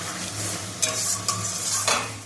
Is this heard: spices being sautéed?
yes